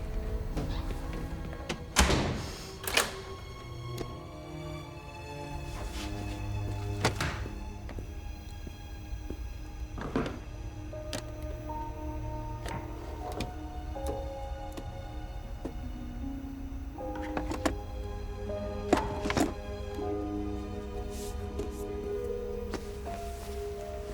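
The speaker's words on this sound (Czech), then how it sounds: "Zámek u zadních dveří." Scattered dull thunks and clicks from a back door and its lock sound over a quiet indoor room, irregular and fairly close, alongside a sustained tonal musical background and no talking.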